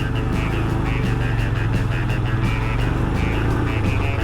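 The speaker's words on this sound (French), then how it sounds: "Ou alors il a cru qu'il s'achetait une voiture télécommandée." A small electric motor in a remote-controlled toy car, whining and buzzing continuously at close range with a steady, slightly pulsing drone and no talk.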